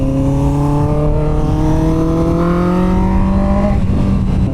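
A 2024 Honda CBR650R inline-four motorcycle pulls hard through the revs, its smooth rising wail climbing steadily and loudly before easing off near the end, heard from on board with no talking.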